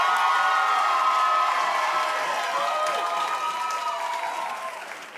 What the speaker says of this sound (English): So audience, you're gonna choose by applause who wins